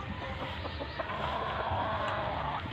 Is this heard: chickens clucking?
yes